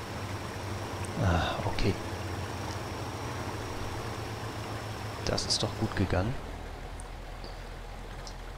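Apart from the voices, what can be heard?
strong river current in the video game Mudrunner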